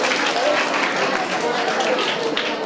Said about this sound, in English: Convey your best wishes through claps.